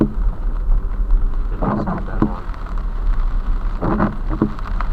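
Rain falls on a car as it drives along a wet road, making a steady, loud hiss of rain and tyre noise. Two brief, louder swishing bursts rise above the wash.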